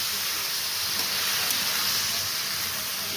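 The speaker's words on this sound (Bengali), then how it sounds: "এই লাউ আর আলু আমি কড়াইয়ে দিয়ে দিলাম। দিয়ে আমি এরপরে নাড়ছি।" Bottle gourd and potatoes frying in a wok give a steady, loud broadband sizzle and hiss that runs unbroken throughout, with no talking.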